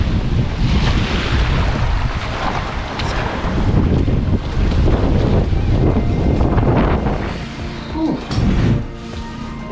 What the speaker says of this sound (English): It's a beautiful warm day, and this is actually the wind settling down.